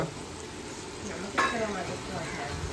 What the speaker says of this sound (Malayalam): ഇഷു ചിക്കൻ പൊരിക്കുമ്പോ എന്തൊക്കെയാ മസാല ചേർക്ക